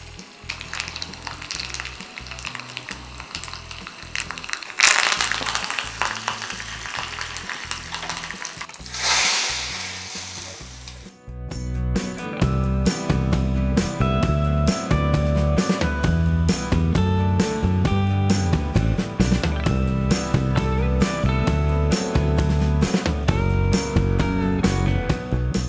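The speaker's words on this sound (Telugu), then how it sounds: "ఇప్పుడు ఈ పక్క ఉంటే పోపు పెట్టుకుందాం." Tempering spices crackle and sizzle in hot oil for Andhra-style pepper rasam. A steady, loud frying hiss plays under continuous background music.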